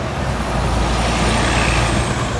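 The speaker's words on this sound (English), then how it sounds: "They're all double-decker buses." Busy Hong Kong street traffic with double-decker buses: a loud, continuous engine rumble close by, with a faint high whine running over it and no distinct brake hiss standing out.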